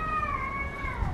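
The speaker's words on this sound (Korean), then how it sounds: "고양이 소리 같은데." A cat meows once in a long, drawn-out cry that slowly falls in pitch, moderately close, over a low background hum.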